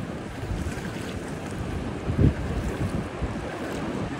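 Large ocean waves roll in at a beach in Pangasinan, a steady broadband wash with wind buffeting the microphone and one brief louder surge midway.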